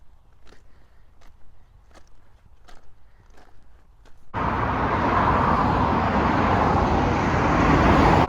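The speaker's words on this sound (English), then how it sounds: "walking alongside this busy road" Loud, continuous roar of traffic on a busy road starts abruptly after about four seconds of quiet footsteps while walking alongside it, then holds steady and close for the rest.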